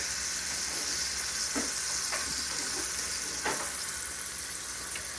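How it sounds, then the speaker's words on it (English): Steak, already cooked in an air fryer, sizzles steadily in a hot pan to crisp up, a continuous close frying hiss with a few soft scrapes and taps of pieces being moved. "now we're gonna fry it up in the pan to make it crispy"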